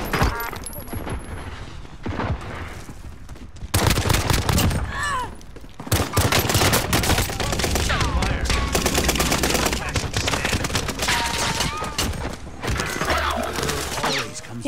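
Heavy Call of Duty Warzone gunfire, with sustained automatic bursts and scattered single shots packed close together. It stays loud for most of the stretch and breaks off only briefly, and faint voices sit underneath.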